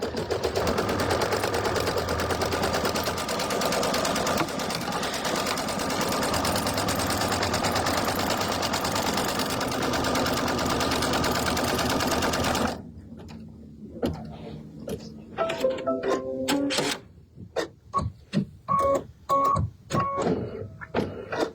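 An embroidery sewing machine stitches a placement line on fabric, first as a dense, unbroken mechanical rattle, then after a pause as short separate bursts of stitching with gaps of quiet between them.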